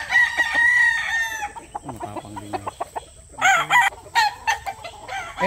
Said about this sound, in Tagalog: Yan, napakagandang manok din.